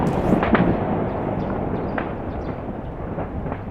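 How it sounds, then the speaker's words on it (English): Distant cannon fire from rebel positions deeper in a city during the battle around Donetsk airport, a few dull booms and cracks over a constant rumbling background, no one talking. "You can hear the return fire from the rebels further into the city. That's the cannon fire."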